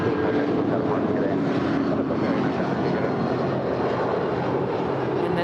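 A United Boeing 757-300 airliner in Evo Blue livery, 18 years old, departing Los Angeles International Airport, producing a loud, steady, broadband engine roar throughout, close by, with wind buffeting the microphone.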